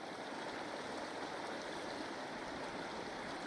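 The Provo River runs in winter at 8 degrees, a steady broadband rush of flowing water at a constant low level with no voices over it.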